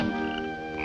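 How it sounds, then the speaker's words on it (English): A frog croaks up close in a single sustained, buzzing call with a rich stack of harmonics, loud and steady, with no talking. "Here we show you a close-up of a frog croaking."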